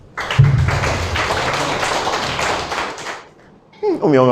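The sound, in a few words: audience applauding for a woman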